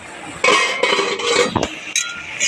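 A metal lid clinks off a pot of simmering kochu shak (taro leaves), a few bright close clatters and scrapes over steady kitchen background, no voices.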